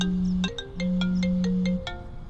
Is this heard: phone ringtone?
yes